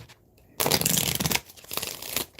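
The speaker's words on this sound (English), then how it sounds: "So look, shuffling this deck." An astrology card deck being shuffled by hand, a close, crisp riffling burst followed by a second shorter flurry of cards, with no talking.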